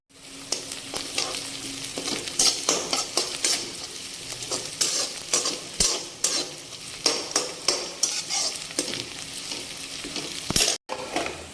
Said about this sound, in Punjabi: ਇਹਨੂੰ ਵੀ ਚੰਗੀ ਤਰ੍ਹਾਂ ਆਪਾਂ ਪਿਆਜ਼ਾਂ ਦੇ ਨਾਲ ਭੁੰਨਾਂਗੇ